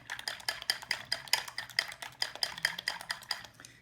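A whisk beats eggs in a bowl for Japanese tamagoyaki, each stroke a quick metallic clink against the bowl wall in a brisk steady rhythm, close and fairly quiet with no voices.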